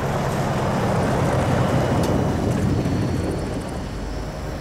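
A loud, steady engine rumble with broadband roar from a vehicle approaching in the Call of Duty Modern Warfare 3 campaign, close and sustained, easing slightly toward the end, with no talking.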